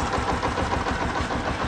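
A Bajaj Platina BS6 motorcycle engine idles just after starting, a steady low mechanical rumble with even pulsing, close and continuous, with no talking.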